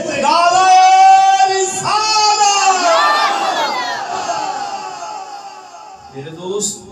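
A crowd of voices raises religious slogans together at a devotional gathering, loud and close, with sustained chanted calls that swell, hold and then fade, followed by a brief shout at the end.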